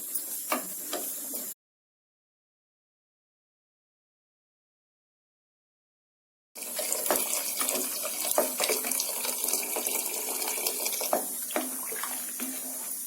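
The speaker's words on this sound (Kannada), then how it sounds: "ಬಿಸಿನೀರು ಹಾಕೊಳ್ತೀನಿ." Hot water is poured into a pot of spiced dal (hitikida bele saaru) after a brief opening noise and several seconds of silence, then a steady, close splashing gush runs to the end.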